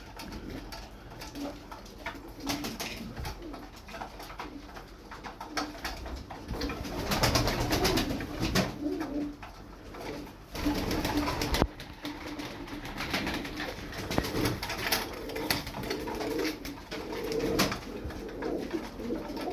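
Tumbler pigeons, about twelve birds close by, coo in low, throaty rolling calls, with rustling and shuffling noise running continuously underneath.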